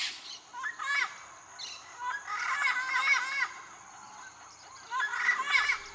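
Several birds call and honk at dawn in Costa Rica in overlapping bursts, goose-like squawks rising and falling against a quiet, still background.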